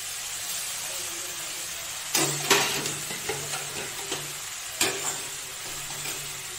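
Ground spices hit hot mustard oil in a pan while cooking a fish curry, a soft steady sizzle with a few sharp spatters and stirring clatters, a voice talking over it.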